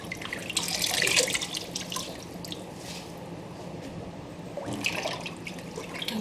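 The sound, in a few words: sink faucet running water to refill and wash greens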